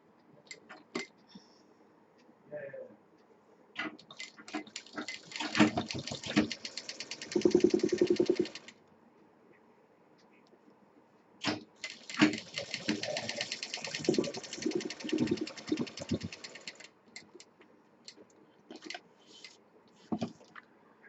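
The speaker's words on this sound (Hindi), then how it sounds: "इसका दूसरा साइड भी सिल लेंगे।" A sewing machine stitches along the second side of a fabric sling potli bag in two bursts of rapid whirring, pausing briefly in between, close up and moderately loud.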